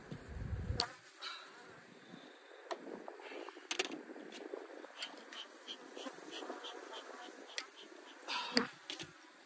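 Honey bees buzz around an opened nine-frame hive, a faint, shifting drone with individual bees passing close to the microphone in short whines, with some handling noise near the start.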